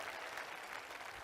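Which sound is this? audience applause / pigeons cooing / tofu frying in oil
audience applause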